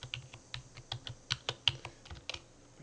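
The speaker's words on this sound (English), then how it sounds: "Type in your Lehigh password, or Lehigh ID first, and then your Lehigh password." Fingers type a password on a computer keyboard, a quick, uneven run of light plastic key clicks at close range, some struck slightly harder than others, in a quiet room with no voices.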